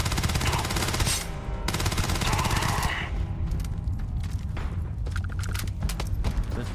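Rapid automatic gunfire from the sci-fi shooter Starfield, dense bursts of shots rattling through the first few seconds, then sparser, quieter pops and mechanical clatter, with a brief spoken remark.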